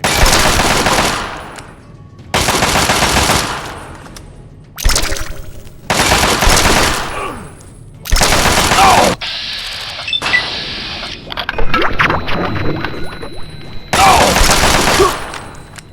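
Loud automatic gunfire in Fallout 3 rips out in several long bursts separated by short pauses, close and harsh, with clicks and mechanical rattles between volleys.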